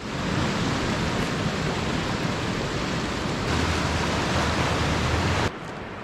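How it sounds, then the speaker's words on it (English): Heavy rain pouring steadily during a flood in British Columbia, a dense, even wash of hiss that stays loud throughout and drops slightly near the end, with no voices. "The rain's been falling for 2 hours now"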